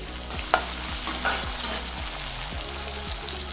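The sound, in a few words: onions frying in oil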